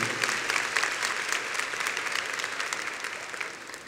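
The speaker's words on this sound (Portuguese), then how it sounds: "Vamos aplaudir o Senhor." A church congregation applauds together during a Catholic service of prayerful scripture reading, steady, dense clapping from many hands at a moderate, slightly distant level that eases off gradually.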